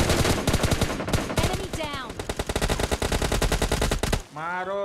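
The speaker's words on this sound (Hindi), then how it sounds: "यहाँ गाइस हमें सामने से फायर आ रहा था" Rapid automatic gunfire bursts from a first-person shooter game, dense and loud for most of the clip and cutting off near the end; a voice speaks over the shooting.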